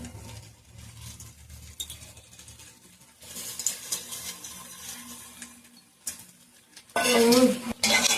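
A jackfruit chop filling with ground peanuts, dried chilli and fenugreek leaves is stirred in a pan: steady scraping and clinking of a utensil against metal, with a louder burst of scraping near the end, no talking.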